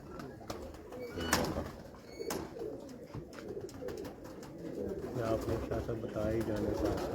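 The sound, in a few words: local Pakpattan pigeons cooing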